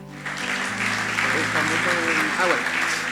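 A church congregation breaks into sustained applause, a dense wash of clapping that holds steady throughout while a preacher's voice carries on over it.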